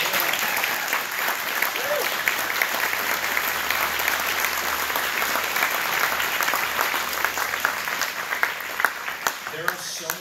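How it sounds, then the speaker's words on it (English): A fundraiser audience applauds a group of students, with loud, dense clapping running continuously and scattered crowd murmurs and faint voices mixed in. "so if we give them a round of applause."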